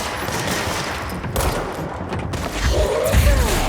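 An allied character fires a gun in the video game Control, a dense, loud burst of shots layered over continuous game action and low rumbling effects.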